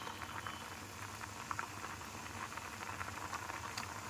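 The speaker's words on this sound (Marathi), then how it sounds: "आता हे छानपैकी उकळलं गेलं" Field beans simmering in a pot of unsalted water, a soft steady bubbling with small irregular pops and gurgles, quiet and close with no talking.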